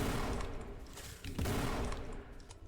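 Rapid bursts of video game gunfire pound almost without a break for a few seconds, loud and close, with dense overlapping shots and heavy thumps and no voice over them.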